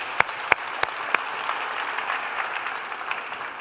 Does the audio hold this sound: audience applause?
yes